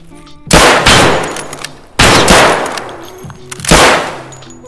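Three loud, close bursts of gunfire in Escape from Tarkov, each a sharp broadband blast with a decaying tail, roughly evenly spaced over a few seconds.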